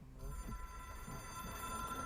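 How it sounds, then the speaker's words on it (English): A telephone rings steadily inside the video game Control, a faint continuous bell-like trill with no voices over it. "Answer the bat phone."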